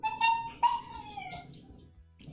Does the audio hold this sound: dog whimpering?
yes